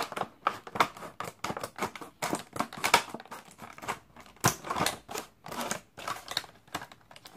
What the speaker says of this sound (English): Doesn't help that I've got a pretty dull pair of scissors here also.